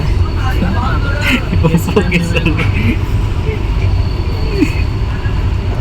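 Steady road noise and engine rumble from riding a scooter through traffic fill the clip, with a person talking over it throughout.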